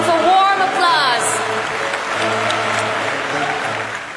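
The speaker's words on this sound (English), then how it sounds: "Please welcome them with a warm applause." A wedding-ceremony audience gives a warm round of applause welcoming Reverend Moon, dense continuous clapping that fades slightly, with voices and a spoken announcement over it.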